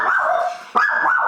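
A dog barks and whines up close in a high, drawn-out yelp, breaking off briefly before a second rising yip.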